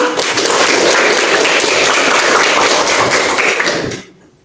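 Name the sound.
classroom applause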